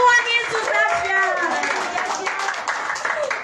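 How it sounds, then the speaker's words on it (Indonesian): A church congregation in Sukabumi applauds during a worship service, with clapping heard beneath a prominent voice speaking or singing over it. "tepuk tangan yang meriah buat Tuhan"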